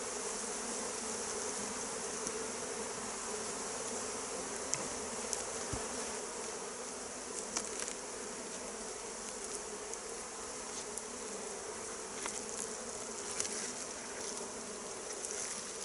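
Honeybees hum in a dense, continuous buzz around a hive during smoking, individual insects passing close now and then over the steady swarm drone, with no one speaking.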